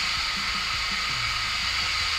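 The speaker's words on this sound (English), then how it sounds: "So I'm going to slow the lathe right down" A wood lathe slowed right down to roughly 500-600 rpm, giving a steady motor whir and hum close by, continuous and unchanging.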